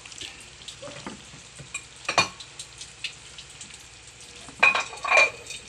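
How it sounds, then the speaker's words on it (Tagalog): Igado, a Filipino pork liver stew with vegetables, being stirred in a pan to thicken: soft low bubbling and sizzle with scattered spoon scrapes and clinks, two louder stirring bursts near the middle and end. "Okay, haluin natin para lumapot."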